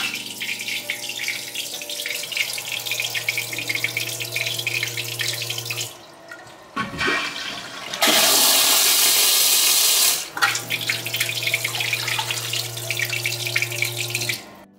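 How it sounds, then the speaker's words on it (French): Floor Concept Japanese monobloc toilet with an integrated cistern doing a full flush: a loud, close rush of water lasting about two seconds, set between stretches of steady tonal hum and softer running water. "Full flush."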